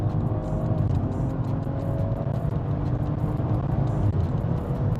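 Steady engine hum and road noise from a BMW 140i driving in comfort mode, heard from inside the car as a continuous low drone with a few faint clicks over it.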